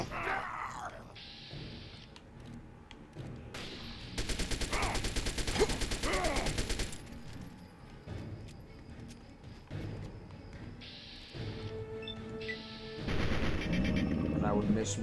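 Bursts of gunfire in Fallout 3, a rapid string of shots over several seconds, then a second volley near the end, over a low game backdrop with faint murmuring voices.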